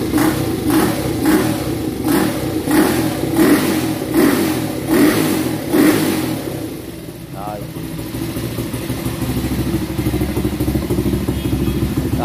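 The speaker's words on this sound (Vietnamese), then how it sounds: "Sẵn là test cái bô bên shop luôn nè, bô 72 ha" A Honda CL50 motorcycle in candy green with an aftermarket 72 exhaust revs loud and close in a steady series of throttle blips, then settles into a rough, rattling idle.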